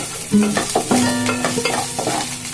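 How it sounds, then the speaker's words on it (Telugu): Bean seed curry being stir-fried in a pan, with a spatula scraping and clattering in uneven strokes over a steady sizzle. The sound is close and fairly loud, with no talking. "కొంచెం పచ్చివాసన పోయడం వరకు వేయించుకోవాలి."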